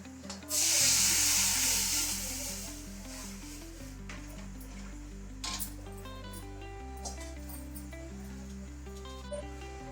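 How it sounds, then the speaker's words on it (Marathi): Tempering spices hit hot oil for spiced buttermilk with mint, giving a loud, sharp sizzle that bursts up and then slowly fades into a steady hiss, with music playing throughout. "आता मी त्याला फोडणी केलेली आहे"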